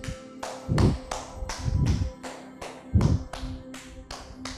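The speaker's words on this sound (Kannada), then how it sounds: "ಜೋರಾಗಿ ಜೋರಾಗಿ ಚಪ್ಪಾಳೆ ಹೊಡಿತಾ ಹೋಗ್ಬೇಕು." Hand clapping as part of a yoga exercise: about a dozen sharp, ringing claps in a steady rhythm, close and fairly loud, a few striking harder than the rest.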